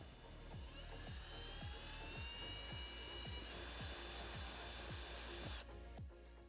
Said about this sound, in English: Then we'll use a 1/4 inch drill bit to drill those out.